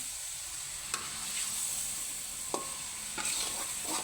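Gudeg ingredients fry in oil in a pan as they are stirred, a soft continuous sizzle with a few sharp scraping strokes of the utensil, close and fairly quiet, with no talking.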